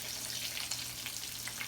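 Green tomatoes frying in hot oil, a soft steady sizzle and crackle with scattered pops, faint and continuous with no talking.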